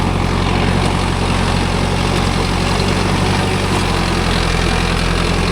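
Mahindra Arjun Novo 605 DI tractor engine laboring under rotavator load, a steady loud low diesel drone with constant rumbling harmonics throughout, close and unbroken, with no talk.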